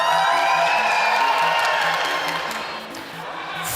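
A large crowd cheering at a Final Fantasy XIV Fan Festival in London, a sustained roar of shouts, whoops and applause filling the hall, loud and steady before easing slightly toward the end.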